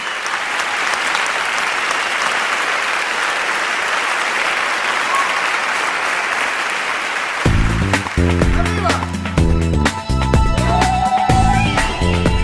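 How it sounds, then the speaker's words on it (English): Warm audience applause for a Pepsi Rock Band Music Video Contest winner at a concert in LA, dense sustained clapping that gives way partway through to loud music starting up over the crowd. "Let's give her a warm round of applause."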